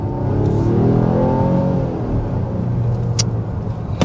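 A 2024 Volvo XC60 with all-wheel drive cruises along a country road, its steady engine and tyre rumble continuous and close, rising briefly as it accelerates, with no talk.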